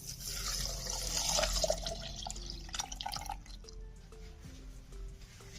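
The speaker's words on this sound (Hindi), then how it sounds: "उसके बाद मैंने ये 2 गिलास दूध लिया, ये डाल दूंगा।" Milk pours into a blender jar of strawberries for a homemade strawberry milkshake, a steady close liquid stream that gurgles and drips before tapering off, with no talking.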